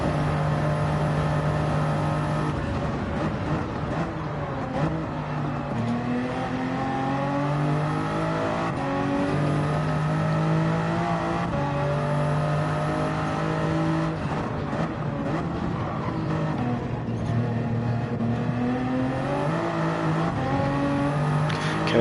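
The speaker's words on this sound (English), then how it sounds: "our car does have a better top speed than Paul Euro's Mazda" Loud, continuous race car engine drone in the Gran Turismo video game, with steady high revs, shifting pitch through gear changes and other cars passing close by, filling the whole stretch without any talk.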